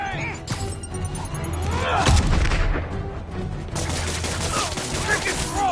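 In the Marvel's Spider-Man video game, a grenade explodes with a heavy boom midway, surrounded by bursts of rapid gunfire and impact sounds.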